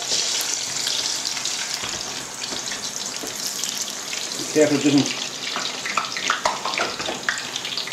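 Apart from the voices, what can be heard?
potato chips frying in hot oil, bubbling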